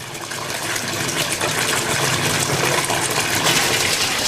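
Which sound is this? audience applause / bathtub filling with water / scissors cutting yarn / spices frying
bathtub filling with water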